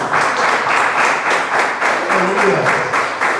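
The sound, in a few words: applause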